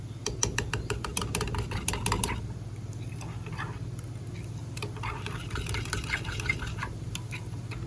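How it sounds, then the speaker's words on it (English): Red liquid pigment is stirred into fishing-lure plastic, with a quick run of light clicking and tapping at first, then a faint, soft swishing mix that continues quietly. No one speaks. "So we're gonna add our red pigment real quick. Let's mix this in."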